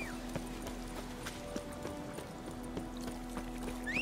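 Roach the horse galloping in Witcher 3, a steady clip-clop of hooves running under looping game music, with a brief whinny-like rise near the end.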